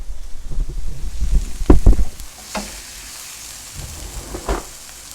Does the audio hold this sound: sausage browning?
yes